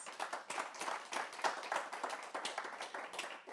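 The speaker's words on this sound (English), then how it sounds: "a round of applause for our excellent panelists." An audience at a policy panel discussion applauds, steady dense clapping from many hands heard at a moderate distance for the whole stretch without voices.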